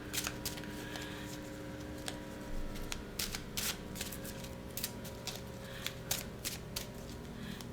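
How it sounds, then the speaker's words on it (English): Tarot cards being shuffled in repeated bursts of crisp riffling and flicking, fairly close, with a low steady hum underneath and no talking. "I'm just going to shuffle for a bit until I feel in it"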